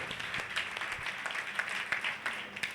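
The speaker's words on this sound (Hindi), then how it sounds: "जोरदार ताली बजा के प्रभु को महिमा दे।" Congregation clapping loudly during a Hindi-language Christian Sunday church service, a dense, steady patter of many hands with sharper individual claps popping out.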